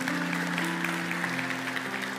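Church congregation applauding together, a steady dense wash of clapping sustained throughout with sustained tones, likely music or organ, underneath.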